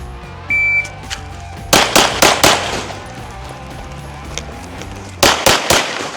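Pistol shots in a timed shooting drill ring out sharp and loud outdoors: a short electronic timer beep first, then a quick string of four shots, a pause, and another rapid string of four.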